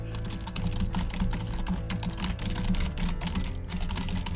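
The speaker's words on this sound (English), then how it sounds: "I have a very loud keyboard because it's cheap" Close, continuous typing on an inexpensive, noisy computer keyboard, a busy run of sharp key clicks with no talking over it.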